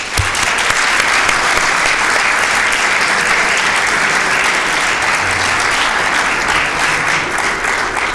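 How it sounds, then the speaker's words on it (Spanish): An audience at a volunteer-action conference session claps loudly and steadily, a dense sustained applause from a room full of people. "creo que el aplauso se lo merecen"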